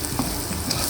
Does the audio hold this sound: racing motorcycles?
no